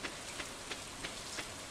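Rain drumming steadily on a roof, a soft continuous hiss of drops with faint periodic swells, heard alone and fairly quiet.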